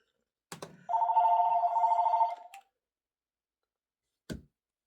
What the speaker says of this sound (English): I don't know how to turn this phone off when it starts to ring.